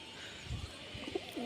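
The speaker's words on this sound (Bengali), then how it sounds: "এটা খুব সুন্দর একটা পায়রা ঠিক আছে কালেকশন করা হাট থেকে" A pigeon bought at a market, a flying breed, gives soft low coos in a short burst, fairly close and quiet against faint background noise.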